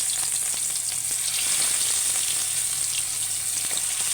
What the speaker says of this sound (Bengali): এখন আমি তেলটা দিই এই গরম হয়ে গেছে দিয়ে দিলাম